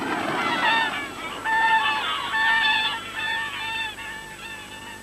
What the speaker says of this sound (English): 11 magnificent swans came flying across the lake toward the cottage.